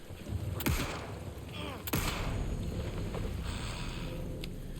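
Gunfire in the video game Alan Wake II as monsters are shot, with two sharp shots standing out over a steady, rumbling ambient background; fairly faint overall.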